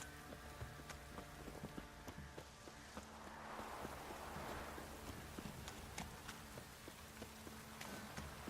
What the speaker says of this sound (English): drizzling